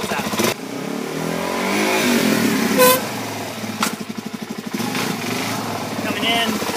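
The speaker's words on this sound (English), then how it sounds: "I'll come in kind of not fast enough, just stop, pick the rear tire up, and then I'll just drop it back down" Motorcycle braking hard into a stoppie, lifting the rear tire and dropping it back down: the engine revs and winds down, then a rapid pulsing idle, with someone talking over much of it.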